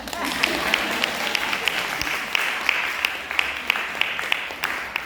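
Steady applause from a crowd for scholarship recipients, a dense wash of many hands clapping continuously at a fairly loud level throughout.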